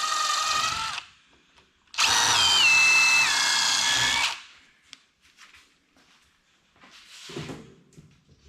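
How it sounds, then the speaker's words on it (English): A power drill whirs in two bursts, a short one and then a longer run with the pitch shifting as it bites into wood drilling a pilot hole, close and loud. "I'm gonna drill a pilot hole"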